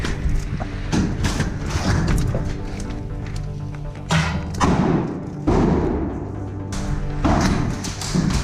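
Airsoft RGS-4 grenades made by Straikart going off outdoors in a test, a series of loud blunt thumps at irregular intervals, some close and heavy, over a constant background.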